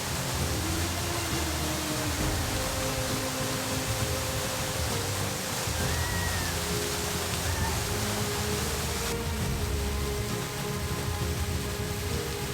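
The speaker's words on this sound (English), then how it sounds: "I hope you said a waterfall shower." A steady, dense rush of falling water roars without pause, loud and close, like a waterfall pouring down nearby.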